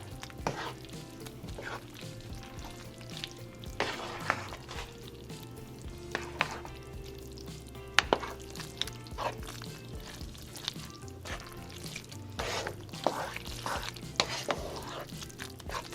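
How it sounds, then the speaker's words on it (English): Elbow macaroni stirred into a thick cheese sauce with onions, heard as close, irregular wet squelches and spoon scrapes with occasional clinks against the pot over a quiet background. "go ahead and add your elbows. And just mix it in with all that delicious cheesiness"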